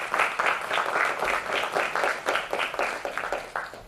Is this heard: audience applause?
yes